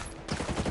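Pistol fire in the video game Ghost Recon, a quick cluster of loud, punchy shots packed into under a second, with no voices.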